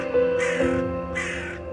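Two loud, harsh caws from a nearby crow, one after the other, over a quiet background.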